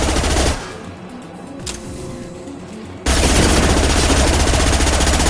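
Rapid automatic gunfire in the Mass Effect 2 video game, loud dense bursts at the start, a quieter lull, then a sustained heavy barrage.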